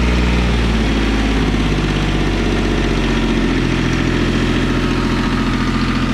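Yanmar 186D diesel loader tractor engine idling at about half throttle, a loud steady low chugging drone close by with no speech.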